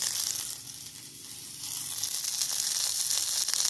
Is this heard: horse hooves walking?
no